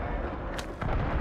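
Gunfire and blasts in Call of Duty Modern Warfare 3 multiplayer form a dense, booming rumble with a couple of sharper reports standing out, loud and continuous.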